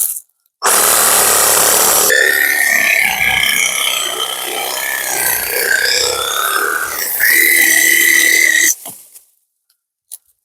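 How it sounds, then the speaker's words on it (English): A saber saw rasps through a tree trunk in the backwoods, a loud, continuous buzzing cut lasting several seconds with shifting pitch as the blade bites, then stopping abruptly. "we'll leave the saber saw there"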